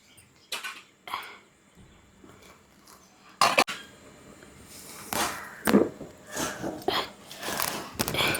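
A pot of steamed rice pittu is lifted off the stove, giving scattered metallic clanks and scrapes of pot and utensils, with quiet pauses between and a busier run of clatter toward the end.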